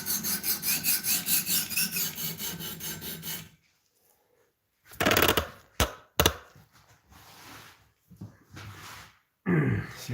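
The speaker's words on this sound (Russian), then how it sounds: "И слушаем, как звучит" Knife blade tapped against a new, hard rubber-coated sharpening table, giving a few sharp ringing strikes with quiet gaps between them after a stretch of steady rasping scraping.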